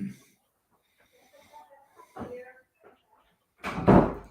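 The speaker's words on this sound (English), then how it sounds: "Let me shut this door here." A door being shut indoors in a home office: a single firm thud near the end, preceded by faint rustling and quiet movement.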